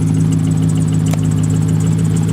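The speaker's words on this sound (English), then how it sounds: "making a funny noise. Sounds like a pulley." Car engine idling on a very cold day, a steady, loud, close rumble with a faint whir like a worn idler pulley, with no talking.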